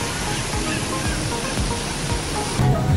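At a water park in Cebu, Philippines, water pours down in a steady, loud rushing roar, a broad continuous splash that swells slightly near the end, with no clear talk.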